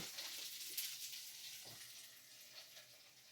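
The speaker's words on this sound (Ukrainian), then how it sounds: "І хай наші котлетки жоряться." Cutlets fry in a covered pan, giving a soft, continuous hiss and sizzle with faint crackles, heard quietly and close throughout.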